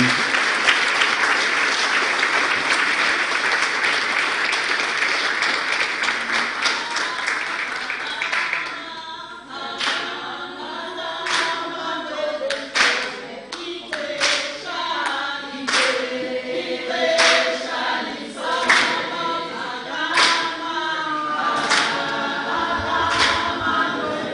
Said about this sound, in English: the biggest round of applause needs to happen now